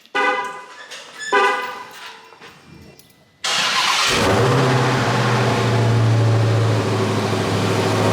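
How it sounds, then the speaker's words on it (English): A Dodge Charger Hellcat Redeye cold-starts inside a garage: a brief starter whir, then the supercharged engine catches with a loud roar and settles into a steady, booming high idle that fills the enclosed space. "Hellcat cold start in the garage."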